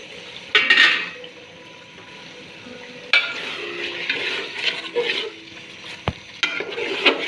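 Rice being stirred into chicken masala with potatoes in a pot: scraping spoon strokes and clanks against metal over a low sizzle, coming in irregular bursts up close.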